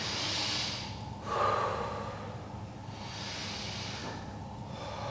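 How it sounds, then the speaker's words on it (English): Two slow, deep breaths close to the microphone during a workout cool-down, each a long breathy hiss with a sharper inhale in the middle, over steady background noise. "We're going to go 3 big breaths again."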